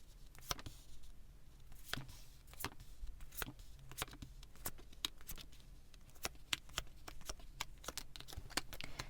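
Tarot cards are handled and turned over, with soft, quiet papery rustling punctuated by many crisp snaps and flicks at an uneven pace throughout.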